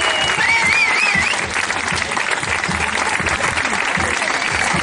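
Sustained applause from a crowd honouring the top three runners at a community road race in Valle de los Nueve, Telde, steady and dense throughout with faint voices mixed in.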